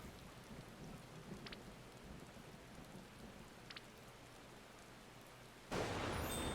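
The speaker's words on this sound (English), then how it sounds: "That's kind of the storm that's happening right now" Heavy steady rain of a thunderstorm hisses on as a constant wash, broken by a couple of brief faint cracks, before a sudden louder burst of downpour or thunder near the end.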